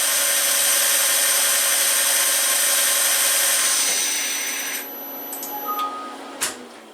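Belt-driven drill press with a 3425 RPM motor running, a steady close whirring whine with tonal hum that winds down and stops partway through, followed by a few light clicks and knocks.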